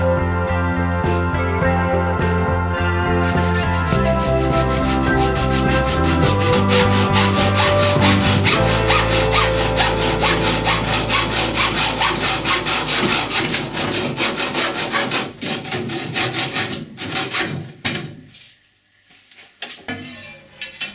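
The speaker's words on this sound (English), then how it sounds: "The pipe needs to be shortened just behind the crossbeam." A pipe being sawn to length behind a crossbeam while building a catamaran: close, loud, rhythmic back-and-forth strokes that continue steadily, then thin out and stop near the end.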